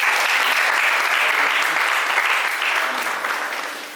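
An audience claps loudly and steadily for a guest at a Hindi poetry recital, a dense burst of applause that thins and fades toward the end.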